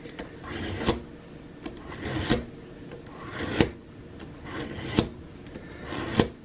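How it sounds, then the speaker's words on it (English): A broadhead drawn repeatedly through a Rada-style drag-through sharpener: five sharp rasping strokes at steady intervals about 1.4 seconds apart, each a short scraping swell, close and clear. "here is the Rada style drag through sharpener"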